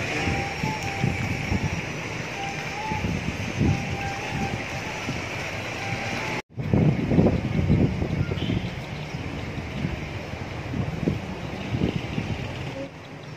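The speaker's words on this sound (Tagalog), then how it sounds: "Super hangin ng place." Steady wind rushes and buffets against the microphone at a hotel swimming pool overlooking Mt. Aray, in a constant low roar, with a brief cut partway through and faint talk underneath.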